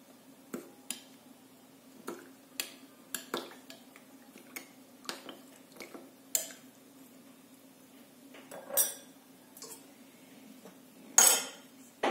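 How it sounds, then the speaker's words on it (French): A spoon clinks and scrapes against a bowl while yeast and sugar are mixed into milk, giving sparse, irregular taps and brief swishes, close and quiet over near silence. "Je mélange."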